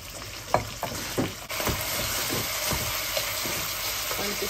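Beans sizzle and fry in a hot pan during home cooking of a Nepali dish, a steady loud crackle with a few sharp stirring knocks over it.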